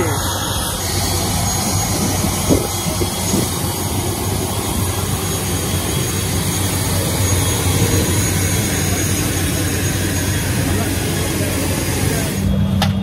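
Steady loud engine drone from a Wings Air ATR 72-500 turboprop airliner, heard continuously from inside the cabin with a broad roar and low hum.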